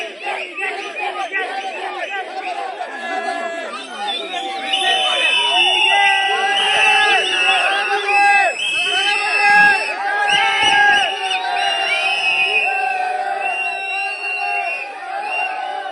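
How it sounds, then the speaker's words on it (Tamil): Party supporters celebrating in Tamil Nadu, a dense crowd roaring with cheers, shouted slogans and whistles that swell and stay loud throughout. "விசிலூதியும் முதல்வர் விஜய் வாழ்க கோஷம் எழுப்பியும் ஆரவாரம் செய்தனர்"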